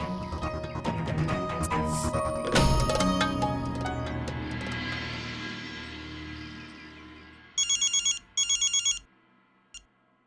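A telephone rings unanswered in two loud bursts of repeated electronic trills, with a short third chirp after a stretch of dramatic background music.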